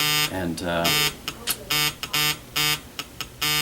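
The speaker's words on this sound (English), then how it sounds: "that is my phone. Somebody's trying to call you." A phone ringing with an incoming call in a coffee shop, a loud repeating electronic ring pattern in regular bursts, with voices talking over it.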